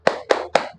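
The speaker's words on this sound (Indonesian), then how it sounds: "Bapak akan mencontohkan terlebih dahulu ice breakingnya, yaitu tepuk semangat." Three sharp hand claps in a steady rhythm, a 'tepuk semangat' clapping chant demonstrated as a classroom ice-breaker, close and loud with short gaps between.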